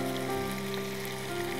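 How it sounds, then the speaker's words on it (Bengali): Chicken frying in a pan on a stovetop, a steady close sizzle with light crackling spatters throughout, no voices. "সেই ফাঁকে আমি চিকেনটাকে একটু ভেজে নিচ্ছি।"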